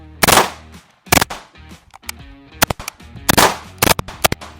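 Kriss Vector with a three-position forced reset trigger firing Fiocchi ammunition from a small magazine, loud close bursts of rapid gunfire in several strings separated by brief gaps, with no talking.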